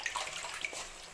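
Water is poured from a tumbler into a bowl to mix maida dough for parotta. A steady, close splashing pour runs alone without a break.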